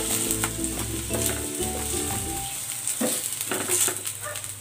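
Pork frying in a pan, a steady loud sizzle with stirring scrapes over it and no talking.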